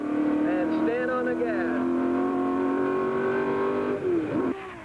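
A 1965 race car accelerating hard on a racetrack, the engine note climbing through gears as a loud, close whine, with an announcer's voice running over it.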